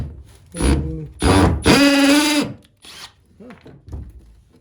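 A Milwaukee M12 FUEL 1/2 inch drill/driver bores into wood in three loud, close bursts of rising motor whine, the longest in the middle, followed by faint handling knocks.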